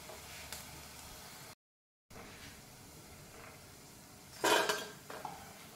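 Crispy fried vrat pakoras are lifted out into a dish with faint clinks of utensils, then a louder, brief rattling clatter near the end over quiet kitchen background.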